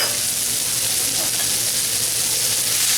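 Mushrooms and sun-dried tomatoes fry in a pan over a high flame, producing a loud, continuous hiss that stays even throughout.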